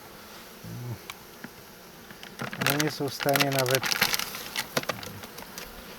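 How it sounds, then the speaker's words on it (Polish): Bees from a small, weak honeybee colony buzz steadily in the background while someone speaks over them, the hum rising and thickening briefly in the middle. "zobaczcie co te pszczoły robią"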